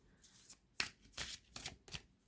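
A deck of oracle cards is shuffled by hand in four crisp riffling bursts, close and clear with short pauses between them and no voices.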